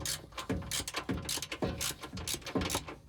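A hand ratchet clicks in rhythmic strokes while truck sliders are installed on a 2018 Tacoma, with close, crisp pawl clatter repeating about every half second.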